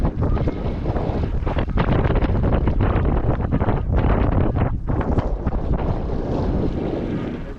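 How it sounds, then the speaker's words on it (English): Steady, loud wind buffeting the microphone during a SUP foil crossing from Maui to Moloka'i in light winds, a continuous roar over open water with no voices. "The wind is really kind of coming from the direction we're going."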